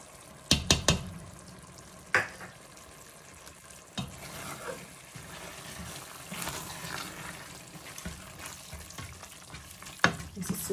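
Eggplant stew with dried seafood is stirred in a pot. A spoon makes several sharp scrapes and knocks against the pot, with a soft sizzling bubble underneath between the strokes.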